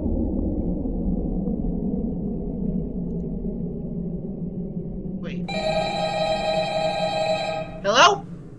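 An old-style telephone bell rings in a single sustained burst in the Fredbear's Fright horror game, clear over a low ambient rumble, followed by a short voice.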